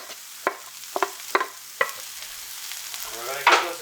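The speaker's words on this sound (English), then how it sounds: "We're going to give those a nice stir so they cook evenly" Onions sizzle softly in a pan while a spatula stirs them in a few distinct scraping strokes, followed by a brief louder burst of frying near the end, close up.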